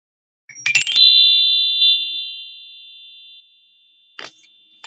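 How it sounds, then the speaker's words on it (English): A bell ringing once with a sharp clanging strike, its tone ringing out and slowly decaying over a couple of seconds, followed by a brief clatter. "The bell just went off."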